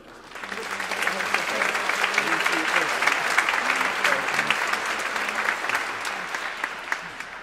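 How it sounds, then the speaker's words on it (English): A concert audience breaks into applause, a broad sustained wash of many hands clapping that swells quickly and holds steady for several seconds before easing off, while a voice murmurs faintly underneath. "Please, a big round of applause for them."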